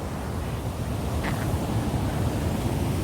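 A waterfall about 14 km from Tirupati rushes in a steady, dense roar that fills the whole clip at constant loudness, with no voices.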